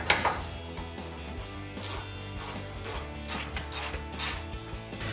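A bolt is tightened while installing a headlight on a 2016-2023 Toyota Tacoma, giving a rapid, steady ratcheting click that runs throughout, close and clear with no talk.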